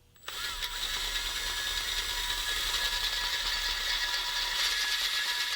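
A power drill grinds steadily into a 1977 Ford 351M engine block, a loud continuous mechanical whir holding for several seconds before stopping abruptly.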